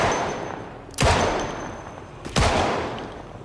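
Two loud, sharp gunshots about a second and a half apart ring out in the video game Project Zomboid, each with a short decaying tail over a steady background bed.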